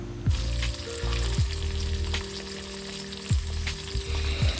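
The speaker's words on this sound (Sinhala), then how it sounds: "තෙල් ටික රත් වීගෙන එනකොට අර අයින් කරගත්ත චිකන් කෑලි ටික මේකට දාලා හොඳට රන්වන් පාට වෙනකම් බැදෙන්න අරිනවා" Chicken pieces fry in hot oil with a steady close sizzle, broken by several sharp scraping stirs of a utensil against the pan.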